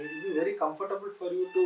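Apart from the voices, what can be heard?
cat meowing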